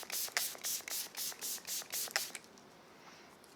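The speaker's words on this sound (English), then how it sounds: "So I'm just going in with my One Hit setting spray by Athr Beauty." Quick spritzes of Athr Beauty One Hit makeup setting spray, about eight short bursts in a steady rhythm, close and bright, then quiet.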